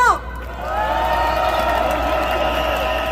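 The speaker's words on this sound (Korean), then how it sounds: "여기 계신 모든 분들의 박수와 함성으로 시작하겠습니다." A crowd at an outdoor mass political rally in front of city hall cheers and whoops loudly, a sustained roar of many voices that starts abruptly and holds steady throughout.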